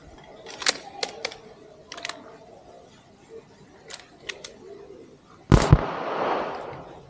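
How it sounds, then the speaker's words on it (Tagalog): A 9mm pistol fires at an indoor shooting range from about 7 meters, one loud sharp report with a short echoing tail near the end, preceded by scattered faint clicks and taps. "Firing."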